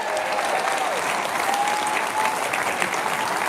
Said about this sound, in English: Give yourselves a round of applause for turning out.